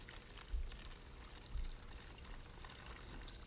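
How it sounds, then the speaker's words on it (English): Mineral spirits flushed through a paint spray gun give a steady close pouring, trickling rush of liquid with a couple of brief louder surges and no talk. "I'm just going to flush the entire gun with more mineral spirits."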